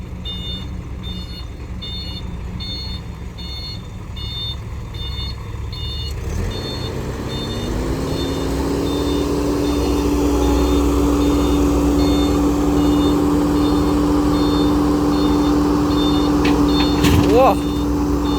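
A truck backs up beside an excavator digging a pond, its engine rumbling steadily and growing louder partway through, with a repeating reversing beep pulsing in the background and a person talking over it.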